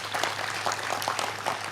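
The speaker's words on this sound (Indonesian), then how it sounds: "Tepuk tangan untuk ulama dan santri." Crowd clapping at a sholawat gathering with Cak Nun and KiaiKanjeng, a dense, steady patter of many hands filling the short moment without pause.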